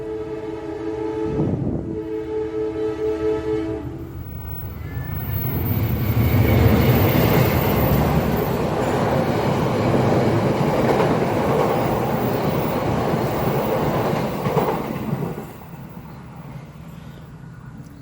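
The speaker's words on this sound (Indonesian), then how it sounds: "Sebentar, ada kereta lewat ya" A train horn sounds briefly, then a train rumbles past close by with a steady roar and clatter that fades toward the end.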